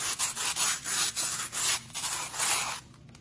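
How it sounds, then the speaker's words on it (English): The painted exterior of an aluminum soda can is roughed up by hand with abrasive, making rapid, rhythmic scratchy rubbing strokes close up, alone without talk. "we can rough up the can a little bit, just try and remove some of the paint from the exterior"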